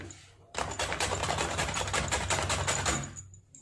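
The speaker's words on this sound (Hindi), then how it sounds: "इस तरह से मैं यहाँ पर इसे चिप्स की तरह कट करूँगी" Knife rapidly chopping beetroot into chip-like slices on a board, a fast dense run of sharp taps lasting about three seconds, close and loud after a short quiet start, with no speech.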